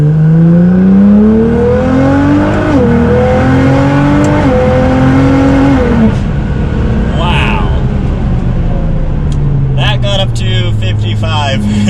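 A loud Nissan GT-R R35 engine running on flex fuel revs up through the gears, pitch climbing and dropping with each shift, heard from inside the cabin.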